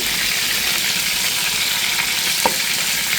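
Nuts sizzling and frying in a pan with a little water while being cooked for a home-style spiced roast, a steady close hiss with faint stirring clicks and one sharper pop near the end.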